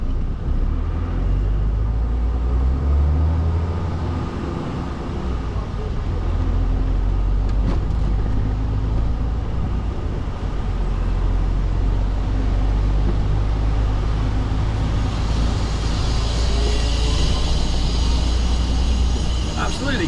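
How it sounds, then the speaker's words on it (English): Continuous London road traffic heard from inside an HGV cab, a steady low rumble of engines and passing vehicles with a heavier surge of noise toward the end. "All the traffic and that everywhere."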